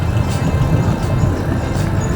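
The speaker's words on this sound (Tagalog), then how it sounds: "traffic is real" Steady road traffic around a motorbike on a solo ride in Camarines Sur, Philippines, a continuous loud low rumble of engines and tyres throughout, with no clear talk.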